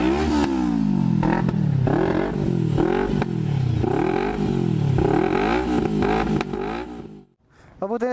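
A big bike motorcycle engine on a group ride, running loud and close, with repeated rising-and-falling revs throttled in a steady cycle before cutting out near the end.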